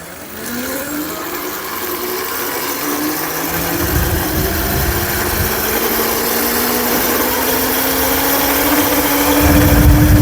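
A bicycle driven by a car alternator used as a motor accelerates, giving a loud, close whine that climbs steadily in pitch over several seconds. A low rumble of vibration runs underneath, and nobody speaks.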